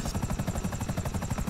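Helicopter rotor in GTA 5 chopping steadily at close range, a fast rhythmic thudding that stays loud and even throughout with a high engine whine on top.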